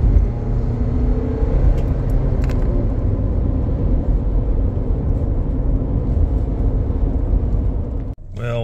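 A 2009 Hyundai Santa Fe 2.2L turbo diesel with a low-power and stalling fault accelerates, giving a steady, close engine rumble and drone throughout that cuts off abruptly near the end.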